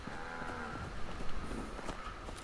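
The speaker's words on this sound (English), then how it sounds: "Shut up, cow." A cow in Fallout 76 lows under a dense, noisy outdoor game backdrop, the moo drawn out and fairly faint.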